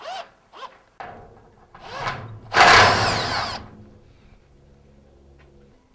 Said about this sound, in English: Now we're going to go down the line and unscrew the rest of them.